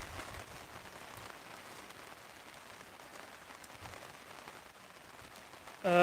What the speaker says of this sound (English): that rain is coming down. You can probably really hear it now.